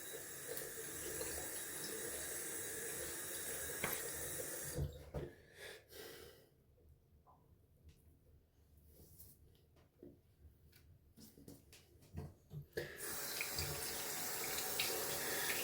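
Cold water runs from a tap into a sink for rinsing a face after a wet shave, a steady hiss that cuts out midway to quieter splashes and drips before the flow resumes strongly.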